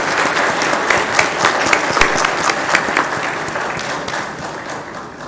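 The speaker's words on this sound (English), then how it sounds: "please join me with a round of applause for our distinguished delegates for giving us this insightful talk" Steady, full applause from a conference audience for panel delegates at an emergent technology debate session, dense clapping sustained throughout at close range with no talking.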